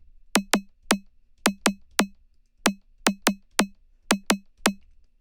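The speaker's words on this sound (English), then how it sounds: "So now we got that impact sound." A synthesized drum impact sound built in the Vital synth from a sine wave and a small glassy layer, heard as about a dozen sharp, bright clicky hits with short low tails, played alone in a syncopated pattern.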